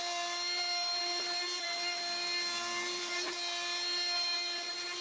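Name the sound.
desktop CNC machine cutting aluminium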